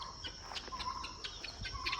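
Small chickens in an ark on a farm in Ghana cluck and chirp in short, close bursts, several quick calls overlapping over a couple of seconds.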